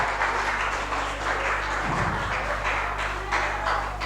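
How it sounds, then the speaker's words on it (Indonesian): Children applauding together at a school event, a steady crowd clapping under a low steady hum, continuing evenly throughout. "Ya, tepuk tangan dulu."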